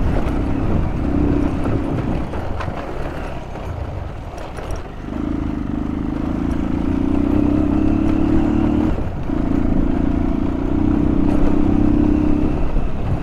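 Motorcycle climbing a steep uphill road toward Mallaj Durbar in Nepal, its engine droning steadily and close, with a brief dip around the middle and a short break near nine seconds before pulling on again.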